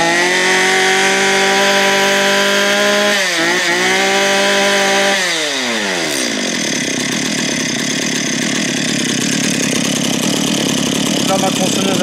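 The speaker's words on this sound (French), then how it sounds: "Là, ma tronçonneuse" A chainsaw with a carburetor problem runs loud and close at a steady high idle, then its pitch drops sharply as the engine settles into a lower, rougher idle that continues alone.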